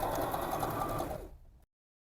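A sewing machine stitches tweed for a Chanel-style jacket in a fast, even mechanical chatter up close, slowing briefly near the end before stopping abruptly.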